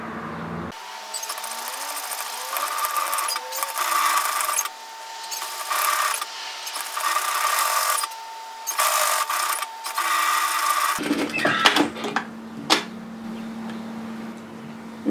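A sewing machine stitches through fabric and overlocked seam bulk in several bursts of steady whirring with short stops between, close and clear, ending with a few clicks and handling noises.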